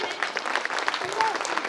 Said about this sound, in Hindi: स्वागत कीजिए आप लोग तालियों से